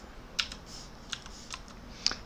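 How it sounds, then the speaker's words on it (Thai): Someone types the words "control panel" on a computer keyboard while working in Windows 10, producing a few sparse, light key clicks spread over a couple of seconds with quiet room tone between them. "แล้วก็พิมพ์คำว่า control panel นะครับ"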